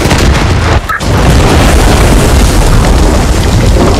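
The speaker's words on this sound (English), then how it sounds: "and yes, there are hella explosions." Explosions from the video game Far Cry 5 roar as a loud, sustained blast of rumbling noise that briefly drops out near the start, then surges again and holds.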